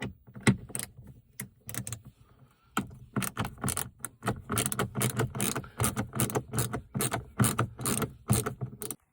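Two T15 Torx bolts are being backed out of a mounting system, heard as a dense run of close, sharp metallic clicks and ratcheting ticks with short pauses, with no talking.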